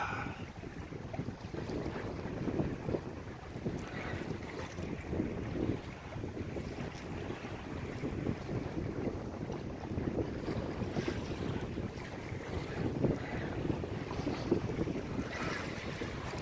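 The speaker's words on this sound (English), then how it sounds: "Another perfect day to sail on Superior." Steady wind rushing past a sailboat under way on Lake Superior, with water washing and slapping along the hull and gusts buffeting the microphone, continuous and fairly loud with no voices.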